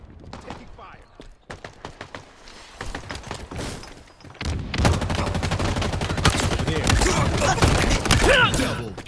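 Gunfire in the Halo Infinite shooter game snaps in sharp separate shots, then builds into a dense, sustained barrage, loud and close, with a voice speaking among the shots.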